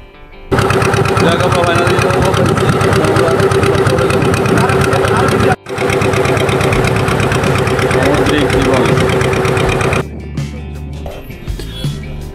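A loud, steady ship engine drones and knocks rhythmically close by on the way to Dublar Char in the Sundarbans, briefly cutting out once, then dropping away near the end.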